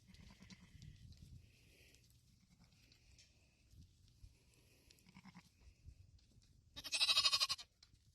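Sheep in a flock being quietly moved by an Australian Shepherd herding dog, a faint bleat or two early on and a louder, brief burst of bleating near the end against a quiet outdoor background.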